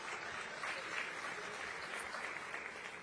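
Audience applause at a National Action Network convention, a dense steady clapping from a crowd lasting a few seconds, fairly faint and distant.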